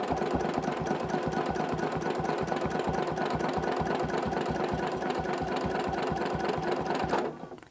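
A sewing machine quilting circles with a ruler runs in a fast, steady mechanical rhythm up close, loud and continuous, then slows and stops at the end.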